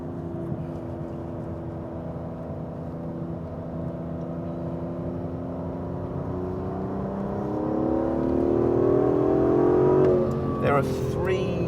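An Aston Martin DB11 with a turbocharged engine laps a race track, its engine humming steadily and then swelling as it accelerates, with someone talking over it.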